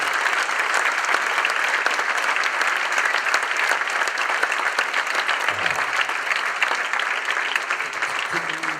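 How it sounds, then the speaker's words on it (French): Festival crowd giving a comedian a sustained ovation, dense steady clapping filling the hall at even loudness throughout, with no voices over it. "un tonnerre d'applaudissements"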